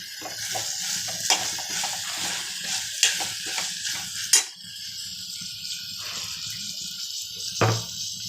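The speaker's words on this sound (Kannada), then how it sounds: "ಕ್ಯಾಪ್ಸಿಕಮ್ ಹಾಕ್ಕೊಂಡು ಫ್ರೈ ಮಾಡ್ಕೊಳ್ಳೋಣ" Capsicum being stir-fried in a pan for capsicum pulao, giving a steady soft sizzle with scattered clicks and a few sharper scrapes of a spatula against the pan, no talking.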